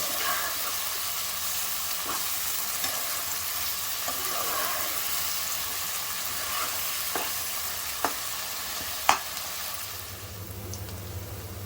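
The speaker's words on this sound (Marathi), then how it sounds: "आता टोमॅटो प्युरी घालूया आता हे सगळं छान शिजवून घ्यायचं आहे" Tomato puree sizzles and cooks in a pan for an egg spinach curry, a steady soft hiss with a few light utensil taps, fairly faint, with a low rumble rising near the end.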